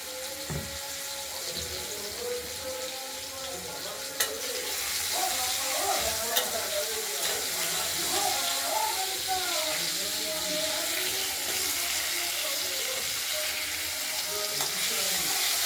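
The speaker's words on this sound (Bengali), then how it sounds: "আলুগুলোকে আমরা হালকা করে ভেজে নেব হলুদ করে" Potatoes frying lightly in a pan for a vegetarian dish, a steady close hiss and sizzle that grows louder and fuller after a few seconds, with faint clicks from stirring.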